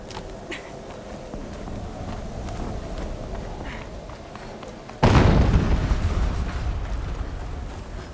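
In the game Horizon Zero Dawn, a deep booming explosion hits about halfway through and sets off a loud, rumbling blast that slowly fades, over a steady mechanical background hum with no voices.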